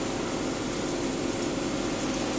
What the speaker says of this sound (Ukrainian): зараз працює тільки е, гучний вентилятор